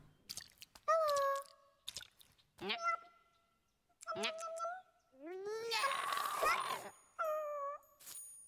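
Cartoon cat meows from the video game Catie in MeowmeowLand ring out repeatedly in short, bright calls with gaps between them, alongside chewing-like game sounds.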